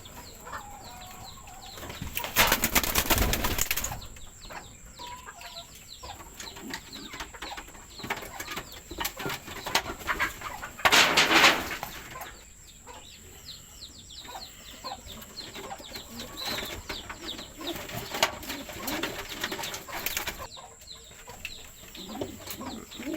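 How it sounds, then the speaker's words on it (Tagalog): Pigeons in a homemade training box flap their wings in several loud bursts, with soft cooing and rustling in between, close by and without talk. "So yung mga kalapatid, ikukuha natin yung ibon natin."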